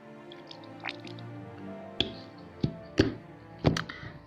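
Water drips onto an Arduino board, landing as a handful of sharp, wet taps that come in irregular succession and grow more distinct toward the end, close by with no speech.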